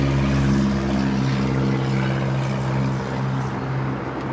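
Frontier Airlines Airbus A320neo in green turtle livery landing at LAX, arriving from Houston. A steady, loud jet engine roar holds for over four seconds with a low rumbling drone and no talk.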